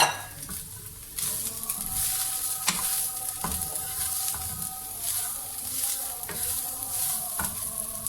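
Cabbage being stirred and fried in a pan for a Karachi-style samosa filling, with a steady sizzle and repeated scraping stirs throughout.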